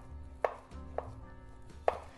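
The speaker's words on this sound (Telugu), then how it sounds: "బనానా తొక్క తీసుకొని ఇలా చిన్న చిన్న ముక్కల కింద కట్ చేసుకోవాలి." A knife cuts a peeled banana into small pieces on a board while making Andhra-style Ugadi pachadi: three crisp, evenly spaced chops close up and fairly quiet.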